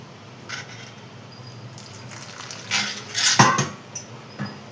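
Flattened rice (aval) being mixed in a dish, soft scraping with a spoon and sharp metal clinks against the vessel, busiest in the middle and ending in scattered taps.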